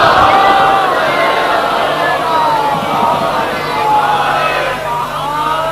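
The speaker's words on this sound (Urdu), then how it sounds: "اتنی ہی بلند صلوات سارا مجمع مل کر محمد آل محمد پڑھو۔" A large gathering at a religious address loudly recites salawat in unison, a dense, sustained swell of many voices chanting together close by, with rising and falling intensity.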